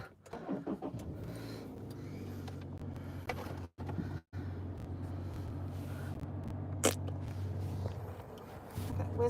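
A car drives along with a steady, close low engine hum and road rumble, broken by two brief dropouts and a short sharp sound near the end.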